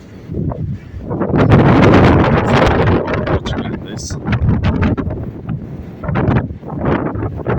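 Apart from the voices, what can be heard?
wind on a ship at sea in the Atlantic Ocean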